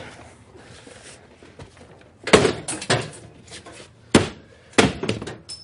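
A door forced open with a forcible entry tool during firefighter training: several loud, sharp impacts and bangs in separate bursts, with quieter shuffling between them.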